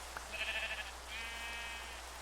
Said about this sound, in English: There's a certain skill in shearing sheep.